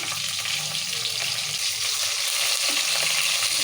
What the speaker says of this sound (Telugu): పచ్చిమిరపకాయలు వేసా కదా ఇప్పుడు ఎర్రమిరపకాయలు కూడా వేస్తున్నా